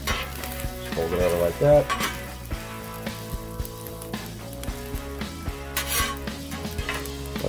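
Omelet mixture fries on a breakfast griddle with a steady, loud sizzle, punctuated by scraping and clinking of a utensil; a voice briefly speaks over it.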